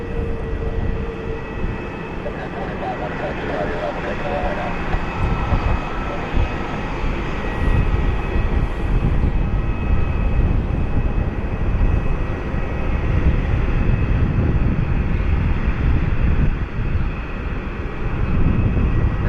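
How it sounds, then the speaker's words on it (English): A United Boeing 737 Max 9 airliner taxiing in at the airport, producing a steady, broad engine roar with a high whine that stays constant and fairly loud throughout, with no voices. "Got our United taxiing in as well. Max 9 came in from San Francisco."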